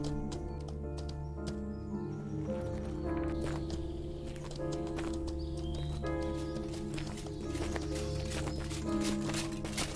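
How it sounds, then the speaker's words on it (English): Horse hooves clip-clopping in the video game Mortal Online 2, a quick run of crisp hoof beats moving at a steady pace, close and fairly clear. "Riding my horse, I spotted a bandits camp."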